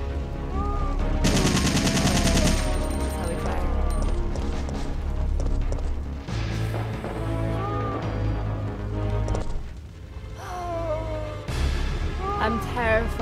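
Gunfire in the Resident Evil 3 video game, with bursts of shots crackling through a dense, loud game soundtrack of music and effects, while a person speaks over much of it.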